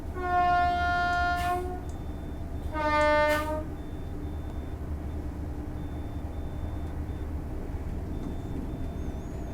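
Two loud horn blasts from a Class 801 train in Train Sim World 4, a longer one followed by a shorter one, sound over a steady low rumble of the moving train.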